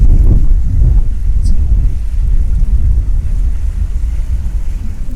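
Strong mountain wind on the Pindari Glacier Zero Point trek in Bageshwar, Uttarakhand, roars and buffets the microphone in a loud, continuous low rumble throughout.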